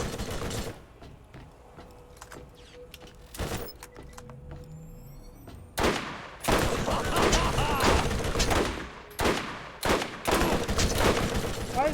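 Sniper rifle fire in the Borderlands shooter game: several sharp, loud cracks spaced a few seconds apart, each followed by mechanical reload clicks and dense game noise, with a voice talking between shots.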